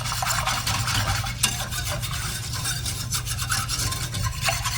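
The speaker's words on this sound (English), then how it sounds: "is there a secret to whisking fast versus slow?" Thick European-style hot chocolate, made to a Disney Cruise recipe, is whisked in a pot, giving a steady, close rasping scrape that runs continuously with no talking.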